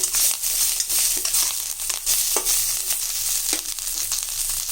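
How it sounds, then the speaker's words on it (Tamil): Curry leaves and coriander sauté in an oiled pan for a cowpea and brinjal kuzhambu, giving a continuous close sizzle broken by sharp crackles and stirring scrapes. "இப்போ இதில் கருவேப்பிலை, நம்ம கொத்தமல்லி போட்டுக்கலாம். இதையும் நல்லா இதில் வதக்கிட்டு"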